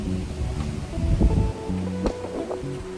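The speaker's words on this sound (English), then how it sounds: "It's very windy today." Steady wind roars and buffets the microphone outdoors on an apartment balcony in Potts Point, Sydney, a continuous rushing noise with low gusty rumbles throughout.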